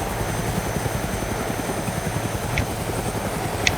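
A helicopter flies in the video game DayZ, its rotor throbbing in a steady, dense drone that stays even and close throughout, with faint light clicks on top.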